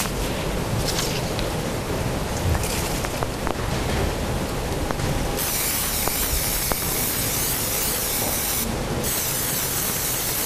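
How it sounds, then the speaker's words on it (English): Continuous hissing spray from an aerosol can of repositionable spray adhesive, close and loud, with a sharper burst partway through and a few faint clicks and taps. "This special spray glue. We'll spray on one side."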